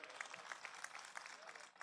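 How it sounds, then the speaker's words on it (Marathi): Faint applause from a crowd at a public political campaign rally in Neral, steady clapping that carries on briefly at a distance. "एकदा जोरदार टाळ्या झाल्या पाहिजेत"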